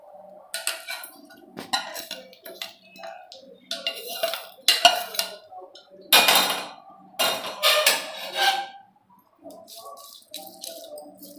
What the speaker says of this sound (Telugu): నెక్స్ట్ ఈ పోపు అంతటా తీసుకొని దద్దోజనంలో వేసుకుంటున్నాను